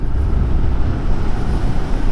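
A Zero SR/S electric motorcycle is ridden with a steady, low rumble of road and wind noise and only a slight whir, continuous and fairly loud, with no talking.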